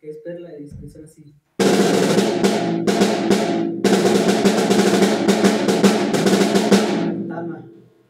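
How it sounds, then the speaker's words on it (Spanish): A Pearl drum set played by a drummer after a brief murmur of voice: loud, rapid drum hits with crashing cymbals in several bursts separated by short breaks, ending in a long ringing decay. "Esta es una tabla que es perla y que suena así."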